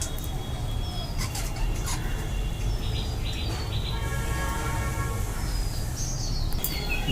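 Budgies chirp and chatter in an aviary colony of about ten pairs, a continuous busy twitter of overlapping calls and whistles over a steady background hiss, moderately near.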